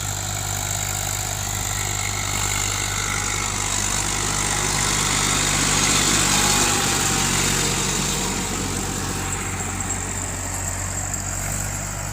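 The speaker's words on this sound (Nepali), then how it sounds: "ब्रोडाहरूले चाहिँ ट्र्याक्टर जोत्नलाई भनेर लिएर हिँड्दैछ।" A tractor engine runs steadily while ploughing a field, a continuous loud mechanical drone with a low rumble that holds at an even level throughout, with no talking.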